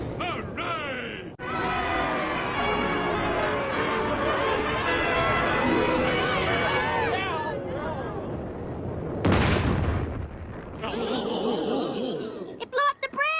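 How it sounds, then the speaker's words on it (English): A rocket fires and a bridge blows up in a loud, roaring blast amid frantic shouting voices, with a sharp burst partway through and the rumble trailing off toward the end. "they're firing the rocket!"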